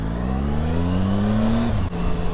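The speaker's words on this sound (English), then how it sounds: "we're on the speed triple at a light with just the engine noise" Triumph Speed Triple motorcycle engine idling at a traffic light, a steady close low drone with a slight pitch drift and a brief dip near the end, no voices over it.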